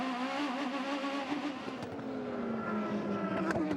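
IndyCar race cars on the St. Pete street circuit, engines screaming at high revs with a falling pitch as they pass by, loud and steady, with a sharper burst of engine noise near the end.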